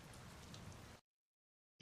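Steady rain falling on a surface, a soft even hiss for about a second that cuts out abruptly, followed by a short brighter burst of sound.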